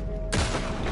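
A single gunshot headshot in the video game Red Dead Redemption 2, a sudden loud blast cutting in after a quiet moment and ringing on with a dense tail.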